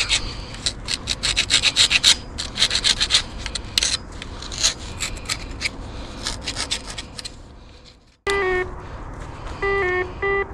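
A knife blade scraping rust off a buried metal natural gas pipe, a dense run of raspy rubbing strokes close by for about eight seconds, then a brief silence followed by steady electronic tones from a locating device.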